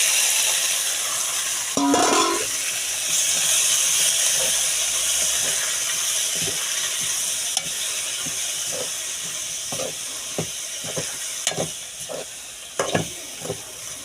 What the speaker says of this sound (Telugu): టమాటో ఇంకా కాసిన్ని ఉల్లిపాయలు కర్రీ కోసం ఇవి కూడా వేసేస్తున్నాను ఇందులో